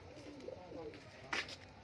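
High-flying tournament pigeons coo in their cages, low soft calls close by with a sharp brief clatter partway through.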